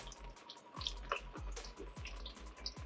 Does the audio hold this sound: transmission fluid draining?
yes